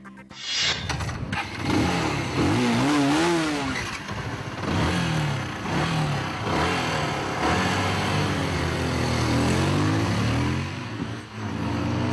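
Bajaj Pulsar 220, Yamaha R15 and TVS RTR 180 motorcycles ride past, engines revving and rising and falling in pitch as they accelerate, loud and close, with no talk.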